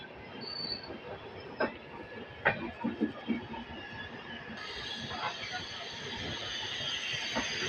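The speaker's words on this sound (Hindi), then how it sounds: "ये आई है जयनगर अमृतसर एक्सप्रेस।" The Jaynagar Amritsar Express pulls into a station alongside, with a steady rolling roar, sharp wheel squeals and clanks from the passing cars, growing louder toward the end.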